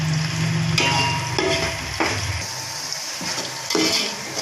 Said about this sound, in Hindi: ये हम प्याज डालते हैं ऑयल में।